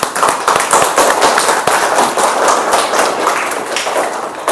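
A classroom of students claps for the presenting groups, steady dense applause that is loud and close throughout.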